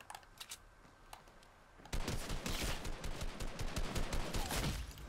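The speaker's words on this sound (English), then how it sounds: "I got sniped." Dense bursts of gunfire from a Fortnite match crackle in rapid, uneven volleys, starting with a few scattered shots and then erupting into a loud, continuous barrage of sharp reports.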